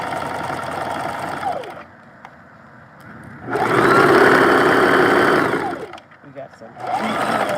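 A sewing machine stitching fabric in bursts, back-stitching and then forward-stitching, its rapid whirring motor starting and stopping several times, close by, with a brief voice in a pause.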